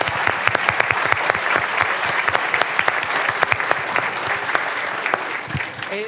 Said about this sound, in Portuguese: Uma salva de palmas para as duas, gente.